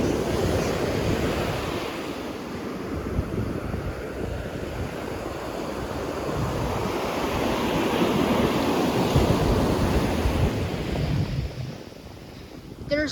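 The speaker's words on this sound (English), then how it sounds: "those waves are huge" Huge ocean waves crash and surge at high tide along the shore at Avon-by-the-Sea, a loud, continuous roar of surf with heavy wind buffeting the microphone, swelling toward the end before easing.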